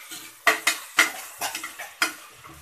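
Mutton sautéing in a pan for Kerala-style mutton kulambu, sharp spoon scrapes and clanks against the pan in an irregular rhythm over a soft sizzle, close and loud with no talk.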